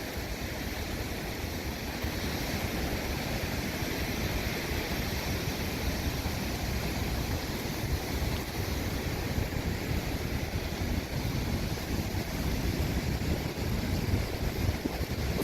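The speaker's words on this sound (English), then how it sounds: "I'm just completely amazed by the amount of water that we have pouring through here." High floodwater pouring through a downtown kayaking course, a continuous dense rushing roar with some wind buffeting, steady and loud throughout with no voices.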